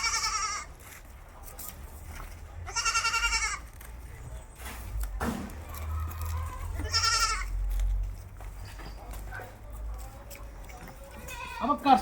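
Barbary goats on a goat farm bleat in several loud, wavering calls spaced through the stretch, with a faint background hum and occasional low noises between calls.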